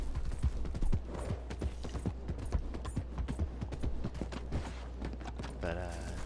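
A horse's hooves clip-clop in a steady walking rhythm in Red Dead Online, moderately close, with someone talking over the hoofbeats throughout.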